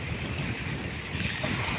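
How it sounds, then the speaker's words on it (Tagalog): Wind gusts buffet the microphone with a low rumbling roar, mixed with the wash of water against a boat. "pero rinig rin siguro po nyo ang hangin"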